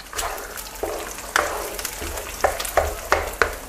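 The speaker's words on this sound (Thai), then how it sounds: "เราจะผัดให้ไข่สุกเลยนะครับ" Eggs stir-fried in a hot pan, with a steady sizzle broken by a series of sharp scraping strokes of a spatula, spaced about every half second near the end, close and moderately loud with no voices.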